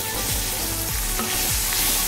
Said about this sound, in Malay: Kita goreng kita punya petai ni